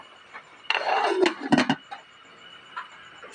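A lid is set onto a pot of vegetable soup with okra, giving a few close metallic clinks and clatters in a short cluster, then quiet.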